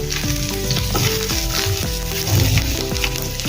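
Ginger dropped into sizzling hot oil already holding cumin and mustard seeds gives a steady, close frying crackle that lasts throughout, over a bed of background music.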